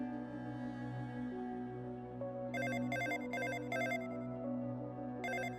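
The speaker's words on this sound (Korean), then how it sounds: "어둠 속에서 휴대폰이 빛나고 전화가 온 것을 알리는 소리가 울렸습니다" Mobile phone receiving an incoming call at night, a repeated electronic ringtone in several short bursts over a steady droning background.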